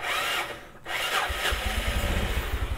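Yamaha Mio Sporty scooter with a faulty Vindex struggling to start: a close, rough engine chugs and sputters unevenly after a brief cranking noise.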